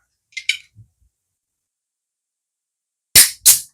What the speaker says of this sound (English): let's open the beer and start